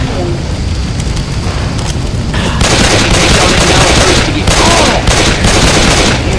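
Rapid gunfire from Left 4 Dead 2 rattles in dense, continuous bursts, thickening into a louder, fuller barrage about halfway through, with muffled voices beneath the shooting.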